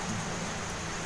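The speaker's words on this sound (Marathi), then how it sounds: "पाऊस तो वारा बघा." Rain and wind outside, a dense steady wash of rainfall with low rumbling gusts, heard briefly and without voices.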